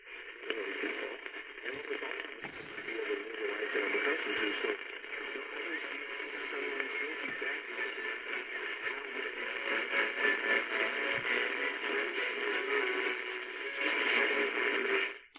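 Music plays on a Panasonic R-1493 AM portable radio tuned to the medium-wave band near 550, thin and hissy under steady static and fading, with a brief crackle of interference partway through.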